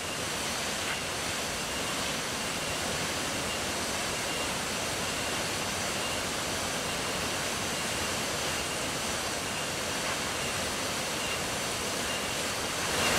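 A waterfall crashing over rocks, a constant loud roar of falling water that stays steady throughout with no voices.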